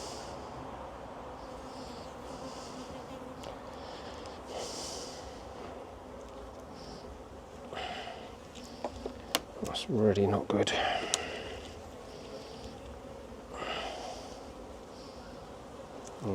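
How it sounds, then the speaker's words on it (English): A wasp trapped inside a Buckfast honeybee hive, its steady insect buzzing blending with the hum of the colony, up close and continuous, while someone talks over it. "Oh, there's a wasp in there."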